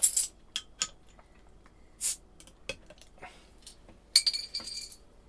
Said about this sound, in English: Sorry about the jingle. The bottle opener is on my keys.